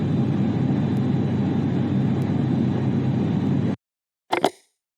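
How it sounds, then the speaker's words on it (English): An airplane drones with a steady broadband roar that cuts off abruptly, followed by a short silence and then a brief plopping sound. "This is an airplane."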